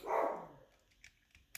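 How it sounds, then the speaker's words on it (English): A dog barks a few times in the background, one fairly loud bark followed by a couple of fainter, more distant yips, with no talking over it. "I'm really sorry about the dog barking in the background."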